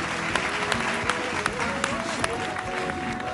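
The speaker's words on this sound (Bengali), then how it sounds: "জোরে একটা হাততালি" Sustained applause from a studio audience on a Bengali family TV game show, dense, even clapping that holds throughout with a voice and faint music underneath.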